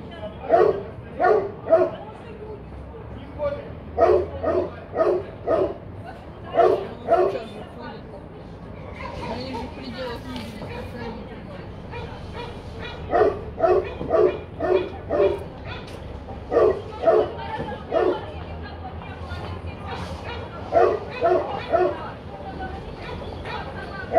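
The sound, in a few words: dogs barking and whimpering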